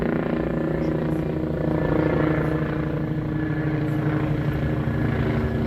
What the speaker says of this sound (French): J'essaie de vous faire voir l'hélicoptère.